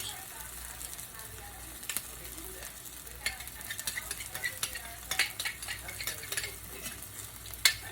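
Cube steak frying in butter and fat in a pan, a steady broadband sizzle with scattered utensil scrapes and clicks stirring through it, growing busier toward the end.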